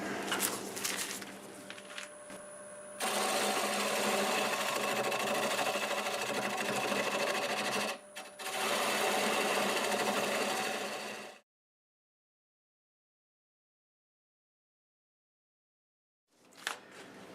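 A wood lathe spins a piece of hazel while a tenon is turned, giving a steady close motor hum with a brief dip, then cutting off into silence before starting again at the very end.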